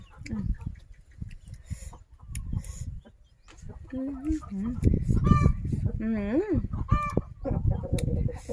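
Bantam chickens clucking and squawking, with a rising, drawn-out call or two, fairly close and lively, some background chatter.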